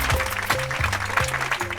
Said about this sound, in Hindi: उनके जैसा नेता मिलना आप लोगों के लिए खुशनसीबी है, और उनके जैसा पिता मिलना मेरे लिए सौभाग्य की बात है। तालियां!